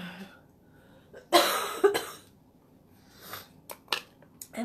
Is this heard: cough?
yes